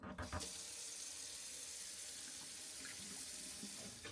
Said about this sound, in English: that's what I'm going to do now, is drain the eggs off of this water